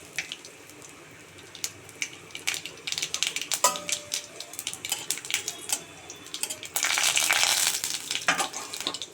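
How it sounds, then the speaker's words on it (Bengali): Dried red chilli and whole mustard seeds spit and crackle in hot oil in a kadai, a close, steady sizzle with scattered pops that swells into a louder, denser burst near the end; no one speaks. "কড়াইতে তেল গরম হয়ে গেছে, তেলে একটা আমি শুকনো লঙ্কা দিলাম ফোড়নে"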